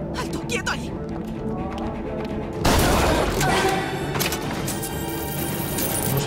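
Gunfire in the video game BioShock Infinite: a sudden loud burst of shots and crashing erupts partway through, following quieter ambient game sound, with a voice speaking around it.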